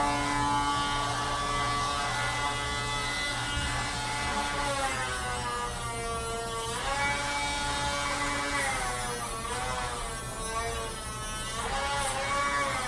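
A Dremel rotary tool grinds a dog's dew claw nails during a grooming bath package, giving a steady high-pitched buzzing whine that shifts pitch as it presses against the nail, close by and alone.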